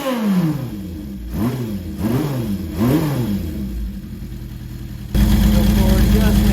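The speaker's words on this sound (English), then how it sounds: "Go ahead and do a rev test." A 1976 Honda CB750 motorcycle engine revs in three quick rising and falling blips, then settles into a steady, louder idle. Voices are heard close by.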